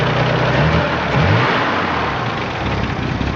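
A Ford Ranger with a 2.8 engine runs close by, a steady loud idle with a slight rise in revs early on, rough and continuous throughout.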